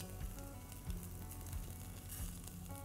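Ginger and fennel seeds fry in a pan for a black chickpea curry, giving a soft, even, continuous sizzle with faint crackles and no voices.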